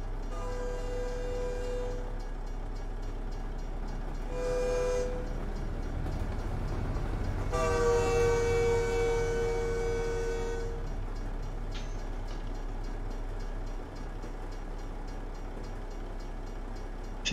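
In American Truck Simulator, a train rolls by with a constant heavy rumble while its horn blasts twice, a short call and then a longer, louder one.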